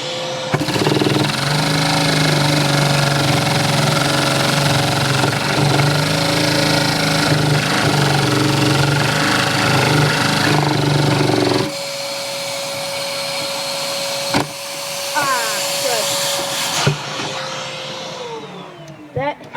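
Small Lego vacuum engine running fast with a small tire fitted, a loud steady high-pitched whine and buzz that shifts pitch partway through, then runs on more thinly before a brief rising sweep near the end, close up.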